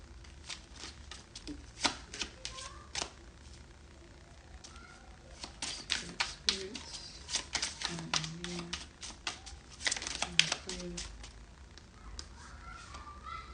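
Deck of oracle cards shuffled by hand in a quiet room, a steady run of crisp, rapid riffling clicks and flutters in several bursts, close and fairly soft, with a low hum underneath.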